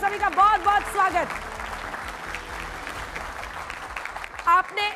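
A studio audience on a Hindi television debate show applauds to welcome the guests, a broad wash of clapping rising after a host's voice and fading as speech resumes at the end.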